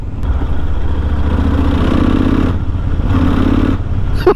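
A Kawasaki VN1500 V-twin chopper engine runs close up with a loud, lumpy, pulsing beat, holding steady with slight swells in revs.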